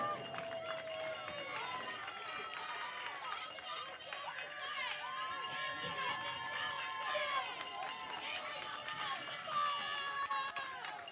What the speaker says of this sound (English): The fans are cheering the Panthers on.